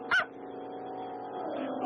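A cartoon puppy gives one short, loud bark near the start, then a quieter background follows with no voices.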